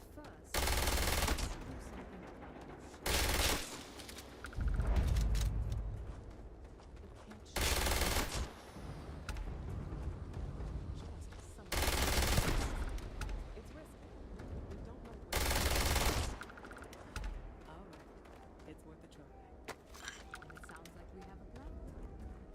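Long bursts of rapid automatic gunfire from a weapon in Starfield repeat several times, loud and close, with quieter gaps between volleys where someone talks.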